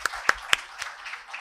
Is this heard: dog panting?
no